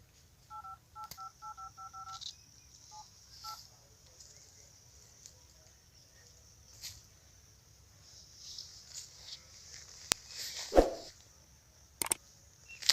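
Telephone number dialed on a phone at a rural Bhojpuri home: a quick string of DTMF keypad tones near the start, faint and close, then quiet room noise with scattered thumps, a dog barking and brief voices.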